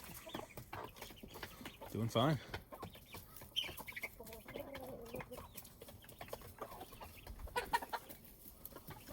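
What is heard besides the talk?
hens and chicks clucking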